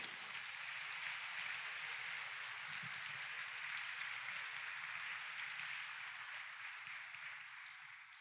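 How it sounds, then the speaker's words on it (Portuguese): Church congregation applauding throughout, a steady dense wash of clapping at moderate level, with a faint murmur underneath. "dá um aplauso bem lindo para ele"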